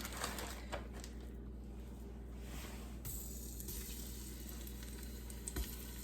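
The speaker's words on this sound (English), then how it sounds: "we're going to brown the meat" Half a batch of flour-and-seasoning-coated steak bites browning in an Instant Pot, with a steady, close sizzle and frying hiss running throughout and a few small bumps and stirs on top.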